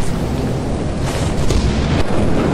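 Thunderstorm in the video game Lethal Company with the Skinwalker mod: a loud, steady roar of rain and rumbling thunder fills the whole stretch, with a couple of sharper cracks standing out, and no talk over it.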